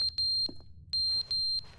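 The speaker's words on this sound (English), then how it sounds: "What's that beeping?" A loud, piercing electronic alarm from the video game The Stanley Parable, sounding as a few sharp beeps in clusters separated by short gaps over a low background hum.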